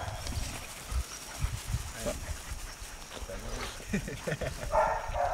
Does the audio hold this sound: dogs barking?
yes